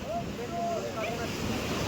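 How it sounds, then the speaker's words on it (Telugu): A steady, soft roar of sea surf and wind washes continuously in the distance on the shore at Dwarka, with faint voices drifting through. "వాటర్ చూడండి ఎగిరి పడుతున్నాయి, ఎగిసి పడుతున్నాయి అలలు అయితే."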